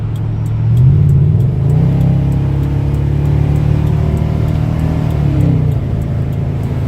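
Deep, steady exhaust drone from a 1997 Chevrolet Silverado fitted with Dynamax mufflers, heard from inside the cab, with a brief rise in revs early on before settling into an even cruising rumble.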